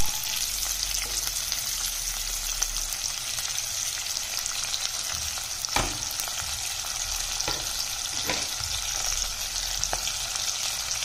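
Chopped onions frying in a pan with cloves and bay leaf for a meal maker biryani, a continuous bright sizzle with occasional scraping stirs, close and steady, no talking.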